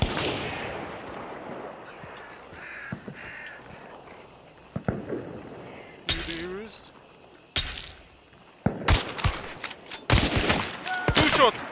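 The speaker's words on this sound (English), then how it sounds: "Two shots! I shot!" Gunshots in the game Hunt: Showdown, several sharp loud reports in quick bursts toward the end, following quieter ambience with crow caws, while people shout over the action.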